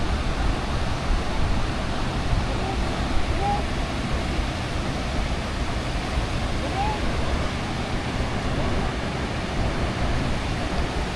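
Khone Phapheng waterfall on the Mekong in Laos, a massive roar of rushing water filling the air steadily and loudly throughout, with no break.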